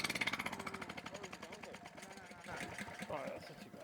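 A small engine fitted with a thunderstorm generator runs steadily at a demonstration in Lismore, NSW, with a fast rhythmic pulsing that eases slightly and roughens near the end, heard up close under voices.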